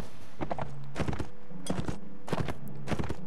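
Horse hooves clip-clopping in the video game Mount and Blade, a slow, uneven series of soft thuds in small clusters, moderately near, with no talk over them.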